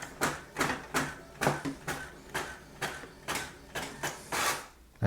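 A Brother MFC-J4335DW printer prints a document with a steady series of about ten rhythmic mechanical passes, each a short whirring sweep at close range.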